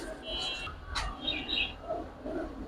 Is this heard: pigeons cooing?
yes